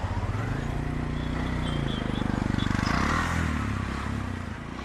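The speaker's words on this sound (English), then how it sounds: "I was just riding in a motorcycle taxi." A motorcycle taxi engine chugs and revs steadily from close by, rising in pitch as it accelerates, with road rumble and wind noise throughout.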